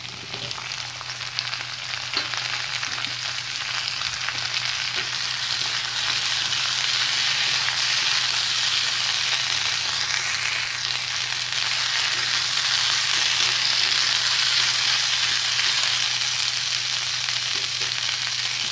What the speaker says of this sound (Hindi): थोड़ा भून लेना है।